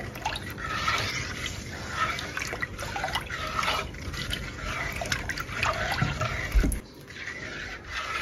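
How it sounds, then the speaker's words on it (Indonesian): Water poured into powdered pudding mix and stirred until dissolved, a steady liquid trickle and splashing with soft stirring clinks throughout, close and moderately loud, no talking. "tambahkan 700 ml air. Aduk dulu sampai larut."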